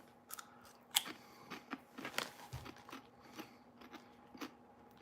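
Crunching and chewing on airy, crunchy onion-flavored snack puffs, close up, with several sharp crisp bites and softer munching in uneven bursts across the clip.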